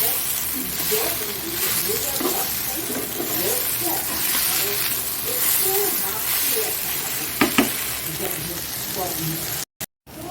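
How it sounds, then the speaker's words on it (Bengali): Onion and potato fry together in a pan, giving a steady close sizzle with scraping stirs, while someone talks over the cooking. "পেঁয়াজটা দিয়ে দিলাম পেঁয়াজটা আলুটা নরম হয়ে গেছে আর পেঁয়াজটা মেশাবো"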